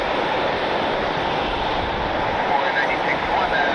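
An Alaska Airlines Boeing 737 in Disney Toon Town livery passes at Cleveland, a steady broadband jet roar that holds throughout, moderately loud and somewhat distant.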